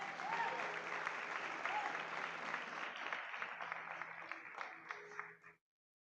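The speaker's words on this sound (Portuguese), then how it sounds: "Dá uma salva de palmas para elas" A church congregation gives a round of applause for the pastors, a fairly faint, even wash of clapping that carries on with murmured voices and then cuts off abruptly.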